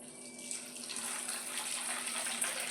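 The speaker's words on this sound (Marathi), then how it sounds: "सोयाबीनमध्ये पाणी टाकून घ्यायचं" Water is poured into a vessel of soybeans for soaking, giving a soft, steady rushing gush that stays fairly faint and even throughout with no voices.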